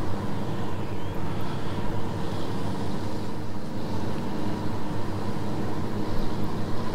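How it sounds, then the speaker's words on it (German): Propeller airplane circling overhead in the PC game DayZ Epoch, a steady droning hum holding at moderate loudness throughout with slight swells, no voices over it. "Das Flugzeug fliegt hier immer noch seine Runden."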